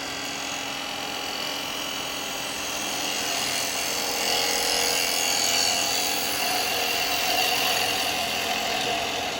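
Wood spinning on a lathe while a spindle gouge shapes a domed ring box, a steady droning hum with a faint scraping cutting texture, swelling slightly midway and continuing evenly without talk.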